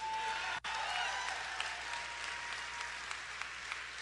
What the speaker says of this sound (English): Yeah, people cheering for this.